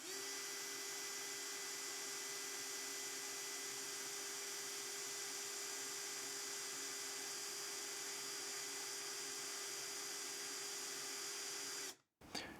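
A Ryobi RDD18-0 18V cordless drill-driver runs at drilling speed 1 with a steady, high, even whine for about twelve seconds before cutting off abruptly.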